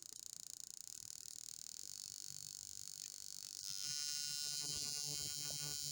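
A 2006 Ural motorcycle engine runs steadily at about 2,000 RPM with an ignition upgrade, giving a continuous close buzzing drone that grows slightly louder and fuller partway through, with no talking.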